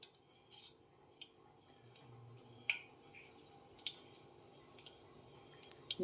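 Mustard seeds dropped into hot oil to temper a chutney, giving sparse, quiet pops and crackles scattered over a faint background.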